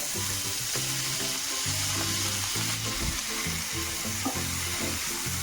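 Chopped onion frying in a spoonful of oil in a pan for dhaba-style anda ghotala, giving a steady, continuous sizzle throughout with a low tonal hum running beneath it.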